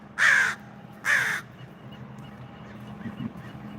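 Two loud, harsh crow caws ring out close together near the start, then only a quiet outdoor background with a faint distant call remains.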